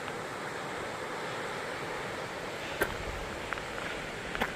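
Laurel Creek beside the Virginia Creeper Trail rushes in a steady, broad watery wash, moderately near and constant, with a few faint clicks or footsteps on top and no talking.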